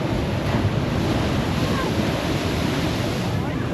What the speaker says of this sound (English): these waves are insane.